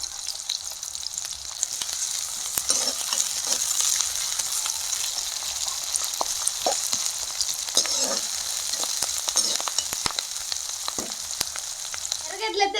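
Curry leaves and green chillies fry in hot oil for a chicken curry, giving a steady bright sizzle with small crackles and pops throughout.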